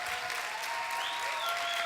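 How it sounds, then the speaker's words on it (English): An audience claps in steady, even applause at a business talk, a dense moderate patter that holds throughout without voices over it. "Can you give these guys a round of applause?"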